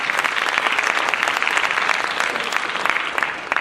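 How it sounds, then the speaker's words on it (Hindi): A large audience applauds at a motivational session in Mumbai, producing a thick, continuous wash of clapping that stays loud throughout and thins slightly near the end. "ताली छोड़ो, कल करके दिखाना है इसे।"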